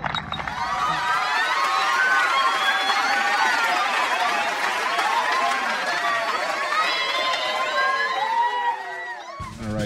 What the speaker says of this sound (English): So we want a round of applause, ladies and gentlemen